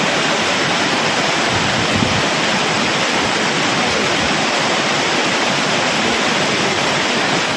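The flooded Courtallam waterfalls in the Western Ghats roar after heavy rain, a loud, dense, unbroken torrent of crashing water that stays steady from start to finish.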